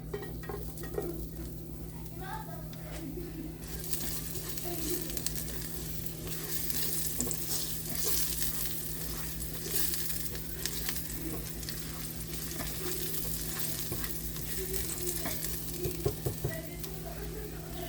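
Garlic frying in olive oil in a cast iron skillet, a continuous crackling sizzle that grows brighter and louder after the first few seconds, with occasional scrapes of stirring and a low steady hum underneath.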